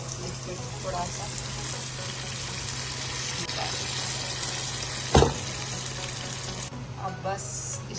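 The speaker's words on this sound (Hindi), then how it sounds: "देखिए, हमारे प्रॉन्स फ्राई हो रहे हैं।" Marinated prawns frying in a pan over a low flame give a steady, broadband sizzle that runs throughout, with a brief sharp clatter partway through.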